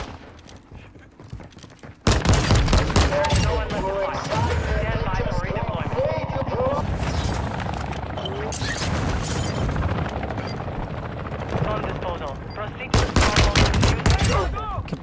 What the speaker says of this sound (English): He's legit shooting at me